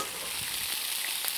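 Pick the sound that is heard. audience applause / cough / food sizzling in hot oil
food sizzling in hot oil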